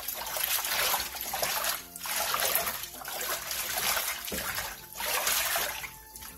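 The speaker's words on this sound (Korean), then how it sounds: "데친 머위는 찬물에 바로 헹궈내주세요." Blanched butterbur is rinsed under cold running water, a steady trickle and splash rising and falling in several waves as the stalks are moved, close and fairly loud.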